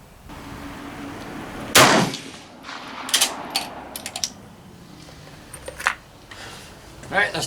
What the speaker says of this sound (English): One more to finish out this 10-shot string.